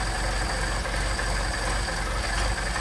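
A car engine fitted with a second set of Solex carburetors runs close and loud with a steady, rapid, pulsing beat, holding an even pace.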